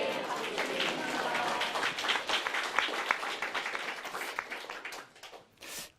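A church congregation applauds during a Korean Thanksgiving service, a dense, steady wash of clapping from many hands that swells and fades over several seconds, with a brief burst near the end.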